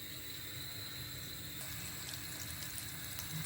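Breaded homemade KFC-style chicken pieces fry in hot oil, a faint steady sizzle and bubbling that continues throughout with a few small crackles and pops, no voice over it.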